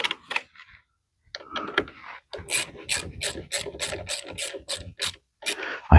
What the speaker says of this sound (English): I'm going to use a wrench and not my power tool on this.